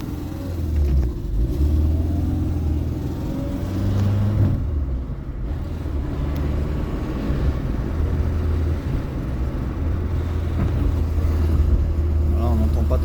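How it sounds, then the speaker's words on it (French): A low rumbling wheel drone from a moving Renault Twingo rises and falls with speed, with road noise and engine hum throughout. "le bruit accélère en fonction de la vitesse de ma roue."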